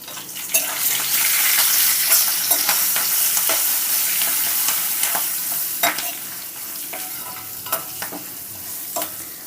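Turmeric, asafoetida and curry leaves sizzle steadily in hot oil for a lemon pulihora tempering, with a bright continuous crackle and occasional sharp pops and spoon scrapes close by, no voices.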